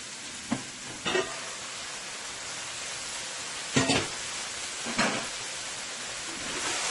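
Karela and shrimp bora frying in hot oil, a faint steady sizzle broken by a few sharp clatters of utensils against the pan, with no talking.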